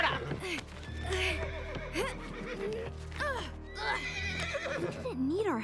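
A cartoon horse lets out several shrill, wavering neighs and whinnies in quick succession, with faint hoof clip-clops and brief voices around it.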